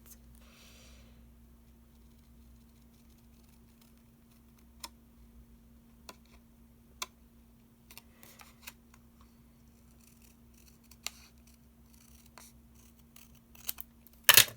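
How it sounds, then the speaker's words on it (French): Large scissors cut paper in sparse, sharp snips scattered across a quiet room with a low steady hum, then a quick cluster of cuts at the end. "Allez, on va prendre des grands ciseaux, ça ira plus vite"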